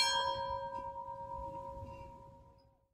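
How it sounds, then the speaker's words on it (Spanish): A single ship's bell strikes once and its clear metallic tone rings out, slowly fading away over a few seconds in a quiet setting. "el vigía volvió a sonar la campana"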